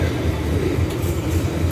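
A long, loaded freight train passes beside Lago São Fernando in Rolândia, giving a steady, loud low rumble with continuous rolling wagon noise and no break.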